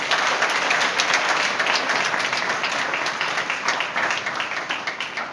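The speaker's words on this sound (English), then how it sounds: "Let's have a large round of applause for all of them." An audience applauds students at a Class XII debate competition, a dense, sustained round of clapping that slowly thins toward the end.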